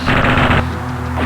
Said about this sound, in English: I am being shot at